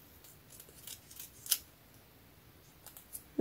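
Scissors snip through material during a craft job, a few quiet separate cuts spread over a few seconds with one sharper snip near the middle and another at the end, no talking.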